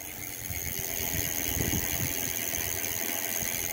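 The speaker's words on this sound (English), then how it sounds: "So you can see that the motor is not loud. You just hear the sprockets or the cassette going hard." An NCM Prague e-bike under throttle, its quiet hub motor masked by the steady whir and rattle of the sprockets and cassette, a constant close mechanical drone with no talk.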